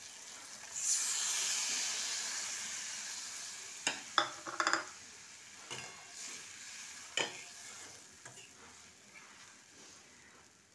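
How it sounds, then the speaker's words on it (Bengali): Water poured into hot oil with a frying tomato and parshe fish curry bursts into a loud, steady sizzle, with a few sharp clinks of a spoon stirring against the pan. "এবার এতে আমি দেবো জল।"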